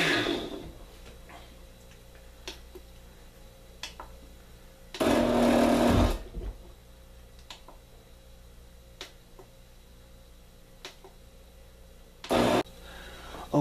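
A blender purees paper pulp for homemade toilet paper in two short, loud whirring bursts, the first about a second long and the second briefer, separated by quiet ticking background.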